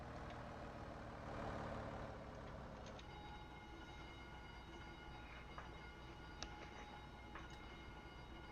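A pushback tow tug rolls up to a Boeing 737-800 in the X-Plane 11 simulator, a steady low vehicle rumble with faint engine hum, louder in the first seconds and then settling into an even drone.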